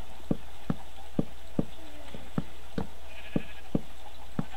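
Minecraft sheep bleat in a game world, a sharp electronic-sounding call repeating at a steady, evenly spaced rhythm, fairly quiet, with no talking.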